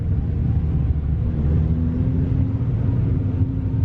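Low exhaust gurgle from a Jaguar E-Type car, a steady deep rumbling burble that stays fairly loud and even throughout, with no talking.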